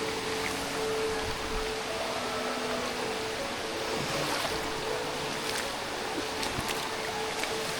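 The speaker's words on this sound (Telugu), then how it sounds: "ఇది ప్యూర్ క్లియర్ స్ట్రీమ్." A clear mountain stream flows on a Kudremukh trekking trail, giving a steady, close rushing wash of water that stays even and continuous throughout.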